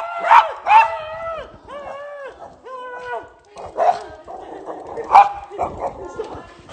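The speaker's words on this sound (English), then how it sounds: "Huge dogs in a bar." Large dogs in a bar bark and howl in a run of loud, drawn-out, close calls with stretched yowling tones, strong and near, with no separate talking heard.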